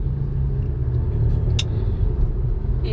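Road traffic rolls past in a continuous low rumble of car engines and tires, close and steady, with a faint brief high click partway through.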